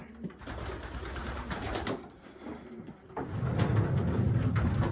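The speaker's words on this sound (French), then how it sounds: "Vraiment, c'est des pigeons magnifiques." Racing pigeons in a loft coo in low, throaty bursts nearby, with a soft rustle and a rising burble of cooing toward the end, no talk.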